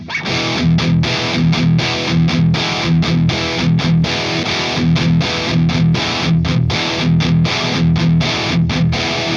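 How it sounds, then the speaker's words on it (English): A heavily distorted electric guitar chugs through a rhythmic riff with short palm-muted stops, loud and saturated, no voices. "I want to have the amps give me the distortion that I need."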